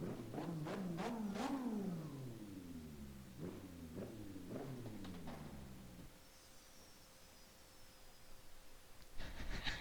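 A high-pitched turbo McLaren MP4/4 F1 engine in Assetto Corsa, heard from outside, revs repeatedly, rising and falling in sharp bursts, then drops to a quieter idle hum before picking up again.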